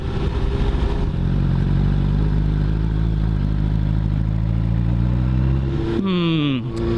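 Motorcycle accelerating hard around a cul-de-sac, its engine loud and steady, then revving sharply with a rising pitch sweep near the end.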